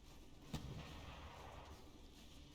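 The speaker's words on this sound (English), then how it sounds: "those little dual-purpose railguns are shooting down some of the missiles" Small dual-purpose railguns fire at incoming missiles in the naval combat game From the Depths. Two sharp, distant cracks stand out over a low, steady rumble, one early and one at the very end.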